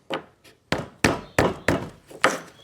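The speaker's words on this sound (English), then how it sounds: "Get my hammer, give that a little tap." A hammer strikes wood at the bottom edge of a hollow core door, six sharp knocks in an uneven rhythm, close and fairly loud with a slightly hollow body, no voices.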